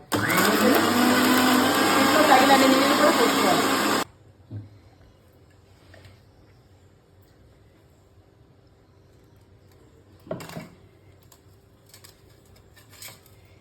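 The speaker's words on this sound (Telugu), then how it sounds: "ఇదిగోమ్మ వేసేసాను మిక్సీలో వేసేసాను ఇంకా మనం ఇది పెట్టేసుకుని మిక్సీ చేసేసుకుందాం" A kitchen mixer grinder whirs loudly and steadily as it blends wheatgrass for about four seconds, then cuts off, followed by a quiet room with a few faint knocks and clatters.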